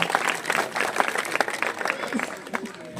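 A crowd at an outdoor village public event in Fatehpur, near Thanesar, India, claps continuously in dense, steady applause for a few seconds, with voices mixed into the noise.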